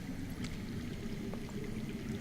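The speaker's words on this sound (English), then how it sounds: "I hear water. From underground." Steady underground water runs in a continuous low rush and trickle within a Game of Thrones video game, a constant wash with no voices.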